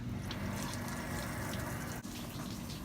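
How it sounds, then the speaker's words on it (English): Water gushing steadily from a hose or tap to supply a 40 hp outboard motor on a Bass Tracker Pro 17 boat, a continuous close rushing splash with a brief dip near the end. "I'm gonna go ahead and turn the water on so we can start this motor."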